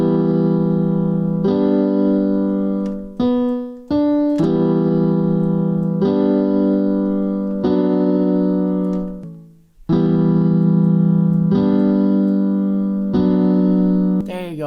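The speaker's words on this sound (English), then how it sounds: "The reverb, honestly, and this goes with all piano VSTs, the reverb is what makes it sound real." A piano VST in FL Studio plays sustained chords drenched in hall-like reverb. The chords fall in a slow, regular pattern of long, loud held notes, with brief gaps and short fills between them.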